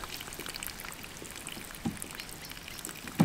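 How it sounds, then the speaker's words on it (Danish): Water is poured out during a lead-free hunting ammunition test, a faint trickling splash with scattered droplet sounds and a couple of soft knocks, quiet and without talk. "Lad os få hældt noget vand ud og se,"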